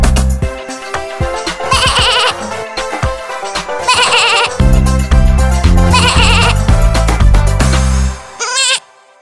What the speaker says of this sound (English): Ba ba, black sheep, have you any wool?